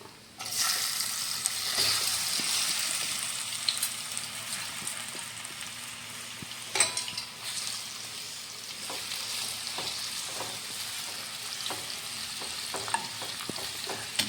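Ripe banana frying in ghee in a pan, a steady dense sizzle running throughout with occasional clinks and stirring scrapes, close and continuous with no talk.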